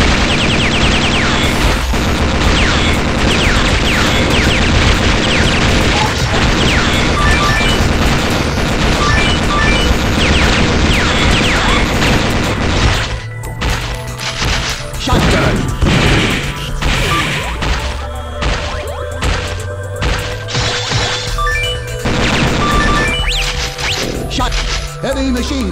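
Shotgun blasts and crashing explosions in the arcade shooter Metal Slug 6 pound continuously at high volume, dense and chaotic, with a shift to choppier, more separated impacts partway through.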